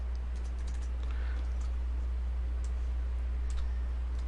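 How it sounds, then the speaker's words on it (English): Typing a username on a computer keyboard, with light, scattered key clicks over a steady low hum, close and fairly quiet, with no talk. "I'm going to type in my username"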